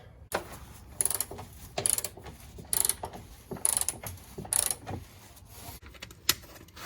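An open 24mm wrench works the nut on a Dodge Grand Caravan driver-side lower control arm bolt, giving a series of metallic ratcheting clicks and scrapes in bursts about every second, close and fairly loud, with no talking.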